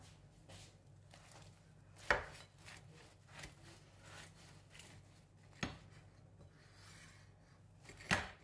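A knife sawing through crisp, cooked nettle katmer flatbread nearby: repeated crunchy, scraping strokes broken by three sharp cracks, with no talking.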